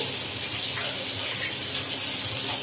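Panch phoron and a little mustard seed with dried red chilli sizzling in hot oil in a kadai, the start of a tempering for a sour mango dish; a steady, loud, close hiss and crackle runs throughout with no talking.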